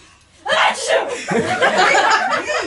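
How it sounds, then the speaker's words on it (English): A sudden loud sneeze bursts out close by, followed by continuing voices and breathy vocal sounds. "Your sneezes are quite heart-rending."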